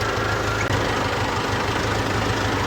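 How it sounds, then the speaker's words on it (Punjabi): A tractor engine idles steadily up close after braking to a stop, a dense, even low rumble with a faint knocking pulse running the whole time and no voices. "ਦੇਖੋ ਟਰੈਕਟਰ ਬ੍ਰੇਕ ਨੱਪਿਆ ਰੁਕਿਆ"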